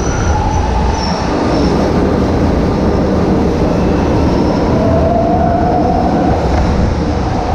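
Steady loud rumble of a São Paulo metro train running at Luz station, with wheel hiss and a faint rising squeal of the rails, continuous throughout.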